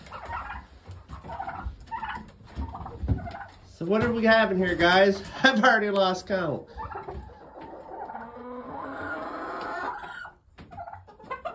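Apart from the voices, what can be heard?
turkeys and roosters in the coop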